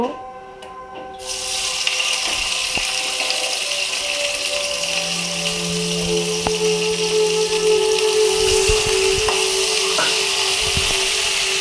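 Chopped onions hit hot oil in a pan for pabda fish curry, giving a steady bright sizzle that swells after a quiet start and carries on with faint clinks of utensils.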